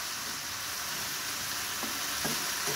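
Vegetables, including cauliflower, fry in mustard oil, making a soft, even, continuous sizzle with occasional faint stirring scrapes.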